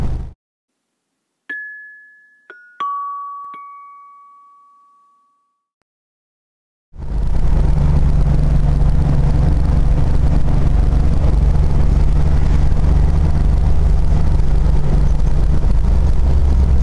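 A Subaru-engined van climbs a mountain pass at about 40 to 45 mph, its steady loud engine and road roar starting abruptly after several seconds of near silence broken by a few faint electronic chimes.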